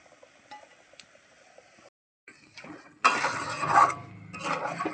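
Semolina being poured into boiling water in a pot and stirred for suji pitha: quiet simmering, a brief pause, then loud scraping, clattering stirring bursts against the pan.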